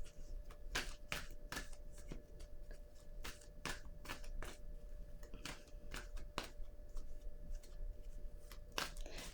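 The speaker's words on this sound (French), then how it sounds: "Je vais déposer une autre carte" Tarot cards being handled and laid down on a table, a series of soft papery slaps and flicks in an irregular rhythm, close and fairly quiet, with no talking.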